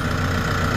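An XCMG backhoe loader idles on a used replacement engine, a steady close diesel rumble with an even low throb and no talk.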